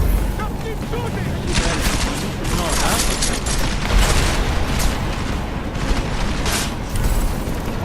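Rapid bursts of gunfire in Deus Ex: Mankind Divided, repeated loud shots and booms packed close together in a chaotic firefight, with voices shouting over the shooting.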